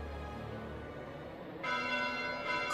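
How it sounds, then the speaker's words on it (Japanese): A bell tolls at night in the video game Fire Emblem: Three Houses, a faint, distant ringing with sustained tones that grows slightly louder partway through. "鐘の音。"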